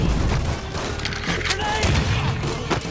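Grenade blast amid a rattling fusillade of gunfire in the video game Mafia III, dense and loud throughout with heavy thumps and booms layered under shouted voices.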